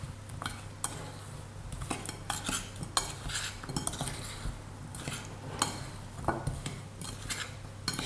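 A utensil scrapes and clinks repeatedly against a bowl while frozen blueberries are stirred together with sugar and flour, close and fairly quiet, in an irregular rhythm of taps and scrapes.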